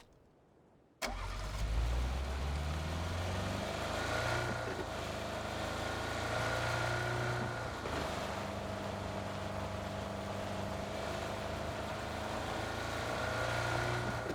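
A vehicle engine in PUBG starts abruptly after a second of near silence, then runs at a steady idling drone with a faint tonal hum, moderately loud and uninterrupted.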